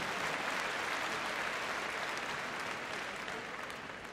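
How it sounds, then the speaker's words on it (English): An audience in a dog show arena at Crufts applauds after a heelwork to music freestyle routine, a dense, steady wash of clapping that stays even and fades slightly toward the end. "Let's give Esther a round of applause."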